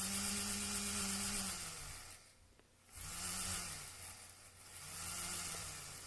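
Small DC motor driven by a motor driver whines and hums, its pitch rising and falling as the speed is varied by a potentiometer, dropping nearly to silence midway before spinning back up.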